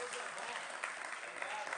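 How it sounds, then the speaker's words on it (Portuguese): A church congregation claps together in sustained, dense applause, steady and fairly loud throughout with no pauses. "Ele merece uma salva de palmas"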